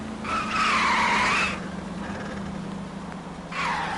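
Car tires skidding in the L.A. Noire video game: a loud, sustained squeal lasting over a second, then a quieter stretch of engine hum before a second squeal starts near the end.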